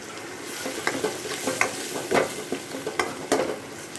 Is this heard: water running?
no